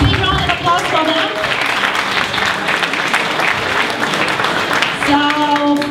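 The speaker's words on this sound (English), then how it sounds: "big round of applause for them" Audience applause for a competing team at a judged team presentation event, steady and fairly loud throughout with an announcer speaking over it near the end.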